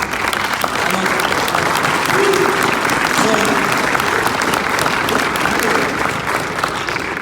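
Sustained, loud applause from a live audience at a basketball coach's speech about systemic racism, dense steady clapping filling the whole stretch with crowd noise and faint voices mixed in.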